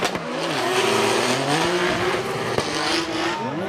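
At a Formula Drift Japan 2024 event, a Nissan Z drift car is chased by the Cusco Racing GR Yaris. Both engines roar close and loud, pitch rising and falling through revs, with tire squeal mixed in.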